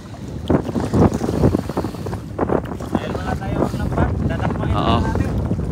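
Strong wind buffets a fishing boat at sea, rushing gusts and microphone roar mixed with water noise, loud and close, while someone talks intermittently over it.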